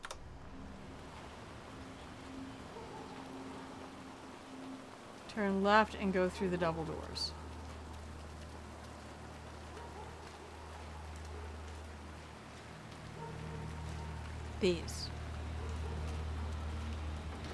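Steady rainfall in the game Hitman 3, a soft continuous wash of drops with faint bird cooing, running under a man's speech that comes in short bursts.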